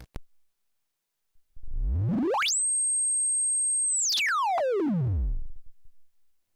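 A pure electronic tone from a synth oscillator sweeps upward from a sub-audio low rumble to a piercing high whistle, holds steady for a moment, then glides back down; no voices.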